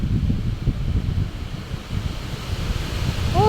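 Strong wind blowing outdoors beside a river, a loud, continuous gusty roar that buffets the microphone throughout, with no voices.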